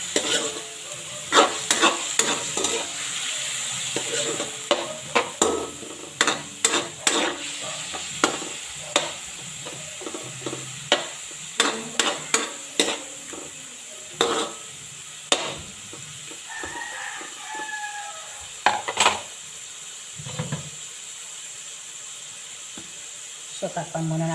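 Chicken meat frying in a pan for Bicolano bihon guisado, a steady sizzle broken by many sharp, rhythmic scraping and clanking stirs of a utensil, close and prominent, with a rooster crowing faintly in the distance.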